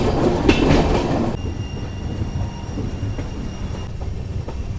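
Sairang to Kolkata express train running on tracks, a loud, continuous rumble and rattle of wheels with rhythmic clicking. The sound drops abruptly to a quieter, steadier roll with faint squeals partway through.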